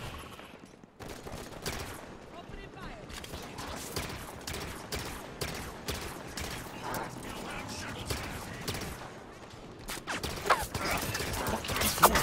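Energy weapon gunfire in a Halo 5: Guardians battle, rapid sharp shots in bursts running almost continuously at moderate volume, with talking mixed in and busier combat noise near the end.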